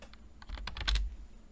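Rapid clusters of computer keyboard keystrokes in a quiet room, a short burst of typing that peaks in the middle and then thins out, with no one speaking.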